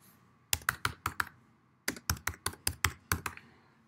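Fingers type on a computer keyboard in two quick bursts of about five and seven sharp keystrokes, separated by a brief pause. The clicking is close and clear, with no voices.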